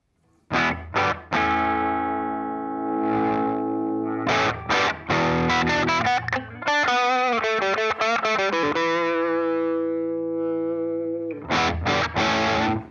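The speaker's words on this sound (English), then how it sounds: "I like to call this a mid to high-gain overdrive" An electric guitar plays through a mid to high-gain Klon-style overdrive pedal, with sustained distorted chords, a busy riff in the middle and stabbing chords at the end, loud and close with no talking.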